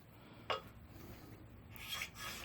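A part of a K.O. Lee B2060 grinder being lapped and abraded by hand, giving faint close rubbing and rasping strokes, a sharper scrape near the start and another gritty pass toward the end.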